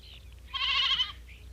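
A goat bleats once, a short wavering cry close by, heard while being led along to a new place, with quiet background between.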